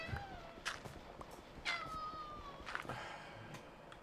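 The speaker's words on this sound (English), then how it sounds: "My cat decides he's going to come in and say hi." A pet cat meows indoors, a few short faint calls and one longer drawn-out cry in the middle, over quiet room noise with light soft footsteps.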